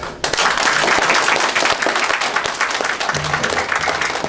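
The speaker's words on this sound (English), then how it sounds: "I will invite you to join me to give Mr. Richardson a welcome applause" Loud, dense audience applause in an evening lecture hall as a speaker is welcomed, with a steady wash of many hands clapping close and full from start to finish.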